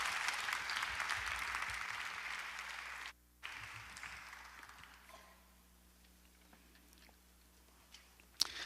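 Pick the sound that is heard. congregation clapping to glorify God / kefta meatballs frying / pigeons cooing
congregation clapping to glorify God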